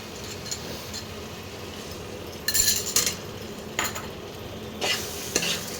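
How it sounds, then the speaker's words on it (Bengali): Masala being fried for a shol fish curry crackles in the pan as a spoon scrapes and clinks against the metal in several short bursts over a constant low sizzle. "তো মশলাটা দিয়ে ভালো করে কষাতে হবে।"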